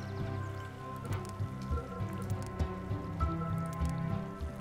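Rain in The Universim god game falls as soft patters and drips over steady game music, all at low volume.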